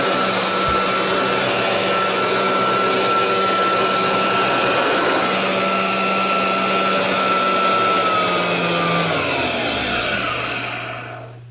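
A vintage GE upright vacuum cleaner runs with a loud, steady motor whine and airy roar, close by, then winds down in pitch as it switches off near the end.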